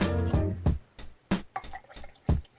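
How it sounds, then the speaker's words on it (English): Small splashes of a homemade drink called Elixir of Life being poured in short bursts, a series of brief gurgling drips and pours with pauses between, close and quiet. "pour a little bit in"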